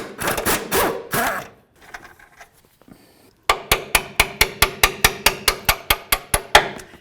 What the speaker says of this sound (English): Now we're going to remove this nut using a 21mm as well.